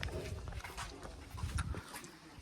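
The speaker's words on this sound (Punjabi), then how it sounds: "ਦੇਖ ਚੱਕ ਲਿਆ ਮੋਟੋ ਨਾ ਕਤੂਰਾ" A small puppy pants and whimpers close by, with short snuffling breaths and soft rustling.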